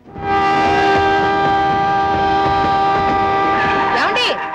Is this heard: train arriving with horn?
yes